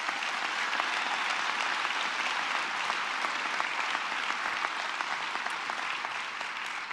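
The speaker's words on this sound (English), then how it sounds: "Let's give our city workers a hand of applause." An inauguration audience applauds city workers, a steady wash of many hands clapping at moderate volume, heard from a distance and continuing evenly throughout.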